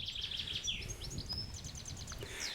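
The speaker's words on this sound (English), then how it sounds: "You can hear the bird life." Several birds chirp and sing in quick, bright bursts beside the Leeds Liverpool Canal at Gargrave in rural North Yorkshire, with a low rumble of wind or distant traffic running steadily underneath.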